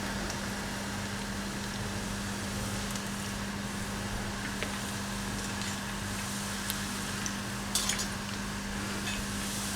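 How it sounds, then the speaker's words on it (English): Onion slivers coated in batter deep-fry in hot oil for kaanda bhajji, giving a steady, dense sizzle with a constant hum underneath and a few faint clinks of utensils near the end. "randomly leave the slivers in the hot oil"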